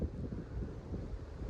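Steady wind gusting through an open corridor beside a suspension footbridge in Parc Aiguebelle, a continuous low rushing roar buffeting the microphone with no voices.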